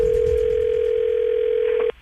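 A loud, steady telephone dial tone at the start of a radio prank call, holding a single pure pitch for about two seconds before cutting off abruptly.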